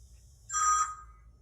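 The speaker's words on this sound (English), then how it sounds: "I gotta take this phone call" A phone gives a single short electronic ringtone burst, clear and moderately loud against a quiet low hum.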